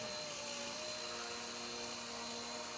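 A small Blade Nano CP S RC helicopter flies steadily, its high-pitched rotor and motor whine constant and close throughout, with no talking.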